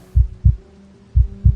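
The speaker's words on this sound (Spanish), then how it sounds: "El único sonido que podía oír era el latido de mi propio corazón." Heartbeat sound effect: two pairs of deep, muffled thumps, each pair a quick lub-dub, separated by a short pause over a low hum, loud and close, with no speech.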